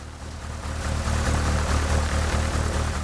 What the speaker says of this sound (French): avion japonais, c'est un Zéro.